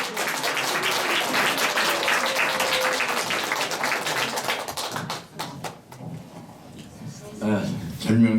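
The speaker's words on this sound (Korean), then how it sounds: "큰 환영의 박수를 보내주시기 바랍니다." An audience at a Korean-language poetry recitation event gives warm applause to welcome a speaker to the stage, sustained clapping that thins out toward the end as voices and a microphone take over.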